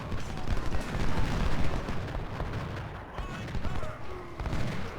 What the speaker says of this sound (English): Just because he shot his last bullet.